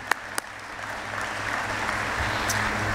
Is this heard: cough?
no